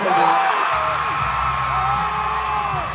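A dense crowd at a political rally for Florida governor Ron DeSantis whoops, yells and cheers continuously, loud and close throughout, with several voices rising above the roar.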